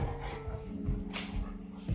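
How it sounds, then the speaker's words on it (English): A dog whimpers and lets out small yips indoors, soft and intermittent over low background rumble. "Sorry, my dog."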